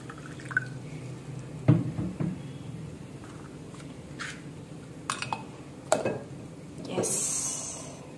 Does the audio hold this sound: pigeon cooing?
no